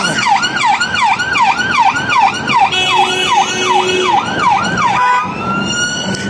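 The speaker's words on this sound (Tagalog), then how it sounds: "Di ambulansya." A loud wailing ambulance siren sweeps up and down repeatedly, then switches to a steady tone as it passes close by in city traffic at a signalled crossing, with road noise underneath.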